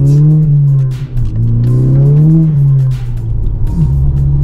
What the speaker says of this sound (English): It's got a huge amount of exhaust going on.